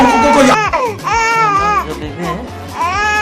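A baby cries loudly and close by, with wailing rising-and-falling cries repeating over a few seconds.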